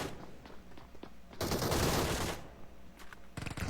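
Gunfire in the mobile battle royale game PUBG Mobile, a sustained close burst of rapid automatic shots, followed by scattered single shots and another short burst.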